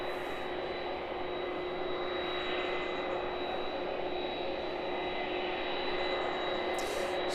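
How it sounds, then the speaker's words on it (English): A Boeing 767 taxies off the apron at East Midlands Airport, its steady jet-engine roar and whine droning on evenly at a moderate distance throughout. "The 767 proceeding though from the apron"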